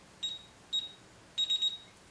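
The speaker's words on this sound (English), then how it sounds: "The keypad will beep after you enter all the digits." A fixed DSC alarm keypad beeps after all the time and date digits are entered: two short high beeps, then a run of three quick beeps, clear against a quiet room.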